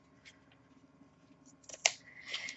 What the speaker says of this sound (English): these are my 49 cents scissors from Hobby Lobby that I grabbed the other day, and they're working great for these projects